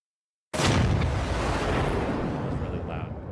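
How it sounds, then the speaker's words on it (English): A loud explosion sound effect for a video game erupts abruptly after half a second of silence, a broad rumbling boom that slowly decays and stays dense through the end, with no talking over it. "It's an explosion."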